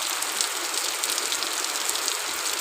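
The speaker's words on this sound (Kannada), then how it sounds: "ಈಗ ಮಳೆ ಬರ್ತು, ಖುಷಿ." Steady rain falls in a dense, even hiss, close and loud, without pauses or talking.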